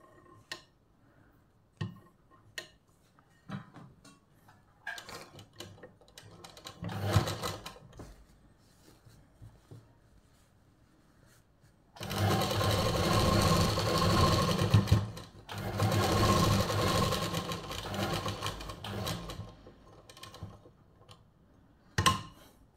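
A sewing machine stitches a kurta, with scattered clicks and ticks of handling first, then two loud continuous bursts of whirring, rattling stitching lasting a few seconds each, and no one speaks.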